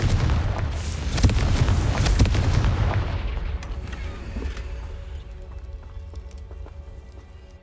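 Confringo spell explosion in Hogwarts Legacy, a heavy, close blast with booming low rumble and crackling hits over the first few seconds, then slowly dying away into quiet game ambience.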